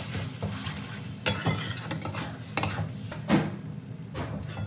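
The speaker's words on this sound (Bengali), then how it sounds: "খুব ভালো করে মিশিয়ে নেব।" Rice flour paste stirred into a bitter greens curry in a pan, with a soft sizzle under repeated scraping and clinking of a spoon against the pan, close and without talk.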